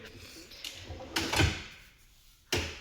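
A capricious wooden cupboard drawer slides and bumps shut in a few short knocks and scrapes, ending with a final clack as it stops slightly open, close and fairly quiet.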